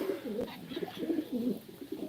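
Pigeons cooing close by, a soft repeated throaty rolling coo in low murmuring phrases, moderately quiet with faint background noise.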